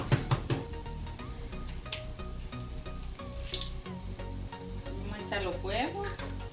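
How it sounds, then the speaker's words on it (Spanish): Eggs go into a pan of frying tomato, chile and onion for a Salvadoran breakfast, setting off a loud, continuous sizzle with scraping stir sounds and a voice talking over it. "Ahora que está frito el tomate, el chile y la cebolla, le vamos a echar los huevitos."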